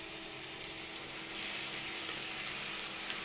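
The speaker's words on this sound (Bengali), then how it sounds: "রসুনের কাঁচা গন্ধটা যাওয়া পর্যন্ত অল্প কিছুক্ষণ ভেজে নিব।" Garlic paste frying with onions in oil, a steady, soft, continuous sizzle that holds even throughout without breaks, heard close but quiet and alone.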